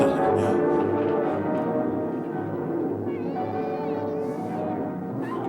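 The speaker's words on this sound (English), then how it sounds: "Get that cat out of here." A cat meows repeatedly in a drawn-out, wavering cry, fairly loud and close, with tonal whining sounds layered through it.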